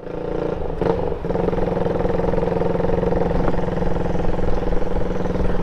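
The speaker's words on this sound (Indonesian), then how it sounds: "Knalpotnya bisa denger kan teman-teman, enak" Yamaha Scorpio custom chopper motorcycle running with a deep, bassy exhaust note, a steady close rumble that swells slightly as the throttle is blipped, with no talking.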